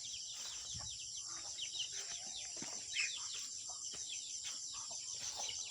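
Chickens clucking and calling at a morning backyard feeding, soft and intermittent over a steady high-pitched hiss of insects or ambience, with one brief louder call near the middle.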